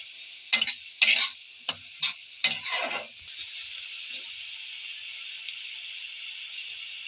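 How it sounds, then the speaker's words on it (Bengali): Spices fry in a pan for prawn malai curry, a steady sizzle beneath a handful of sharp scraping stirs early on, then frying continues alone and evenly. "আবারও সবকটা উপকরণ একসাথে নেড়ে কষিয়ে নেব"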